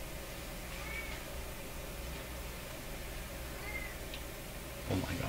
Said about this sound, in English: the sound of my cat crying in the background